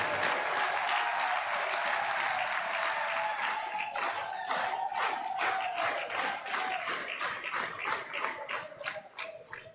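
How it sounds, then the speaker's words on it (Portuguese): A large crowd claps for the Mozambican people at a political address, a loud dense burst of applause whose strong rhythmic beats fade unevenly toward the end. "Peço uma grande salva de palmas para o povo moçambicano"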